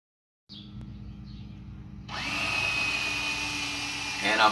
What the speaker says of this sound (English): Now we're going to bolt them on with the stainless steel screws and stainless steel locking nuts.